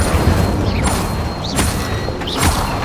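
Incendio fire spell cast in the Hogwarts Legacy video game, a booming whoosh of flame with crackling bursts and rising magical swishes, loud and dense throughout.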